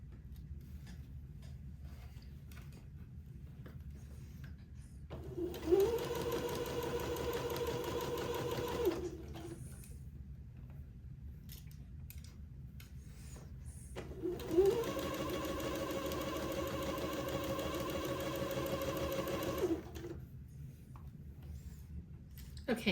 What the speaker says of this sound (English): I've set my machine to a straight stitch, and I'm going to stitch this onto the batiste